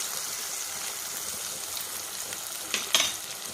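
Tomato pieces soften in a hot pan for mutton pulusu, making a low, continuous hiss with a brief sharp crackle and stir near the end.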